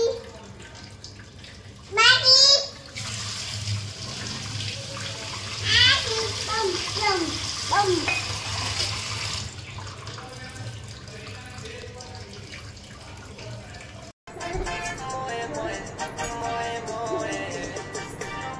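Water runs and splashes steadily while a baby is washed, with a voice and an adult talking over the flow.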